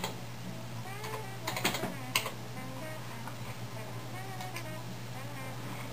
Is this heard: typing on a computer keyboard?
yes